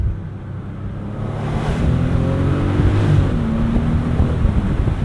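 A 2013 Bentley Continental GTC convertible accelerates in second gear with a steady, rising whoosh of wind and engine drone heard from inside the cabin, low and continuous without talk.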